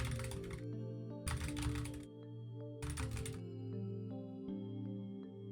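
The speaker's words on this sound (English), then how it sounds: "I love my clacky keyboard" Clacky mechanical computer keyboard typed in bursts, three short flurries of rapid key clatter separated by pauses, under a steady background hum of game music.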